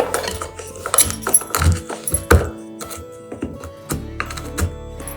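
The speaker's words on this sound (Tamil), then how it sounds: "நம்ம வறுத்து வச்சிருக்க மிளகு மற்றும் ஓமத்தை இப்ப லேசா இடிச்சிடலாம்" Roasted ajwain seeds and black pepper are pounded lightly in a mortar, giving several sharp knocking and clinking strikes at irregular intervals, close and loud, with quieter scraping between blows.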